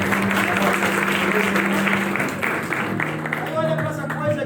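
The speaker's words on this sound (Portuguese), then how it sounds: "Aplauda o Senhor Jesus" A congregation at a church service applauds, sustained crowd clapping under a held musical tone and a speaking voice, thinning slightly toward the end.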